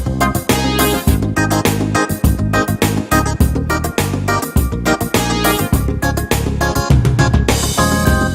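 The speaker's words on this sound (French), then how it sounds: "le morceau suivant c'est un petit reggae" A reggae song is performed live by a band, loud and close, with a steady rhythmic pulse of choppy chords and percussion running continuously with no talk.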